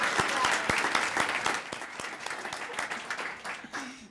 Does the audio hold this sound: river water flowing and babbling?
no